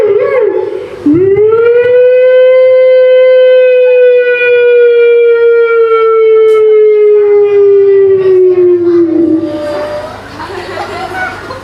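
A voice imitates a fire engine siren with a long, sustained wail that slowly rises and falls, close and loud, followed by elementary school children chattering and laughing.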